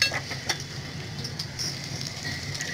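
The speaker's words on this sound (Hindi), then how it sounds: "थोड़ा सा पानी ऐड करके मसाले को अच्छे से भून लेंगे" A spice paste of coconut and a little water roasts in a pan for a Konkani-style black pea curry, giving a steady close sizzle broken by occasional light clinks of a stirring utensil.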